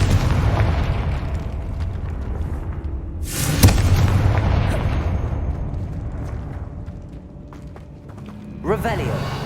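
Confringo spell explosion in Hogwarts Legacy, a sharp loud blast bursting out mid-scene over a busy rumbling game soundscape, then fading, with a voice calling out beforehand.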